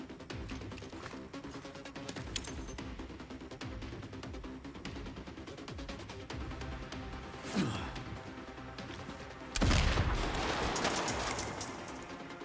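Gunfire from a Resident Evil game, rapid bursts of automatic shots and single cracks spread through the scene, moderately loud with a heavier blast near the end, no talk.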